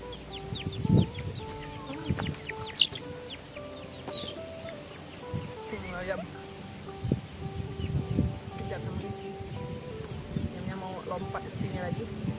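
Chickens cluck and a rooster-like call sounds amid outdoor farmyard noise, with some rustling and faint background voices.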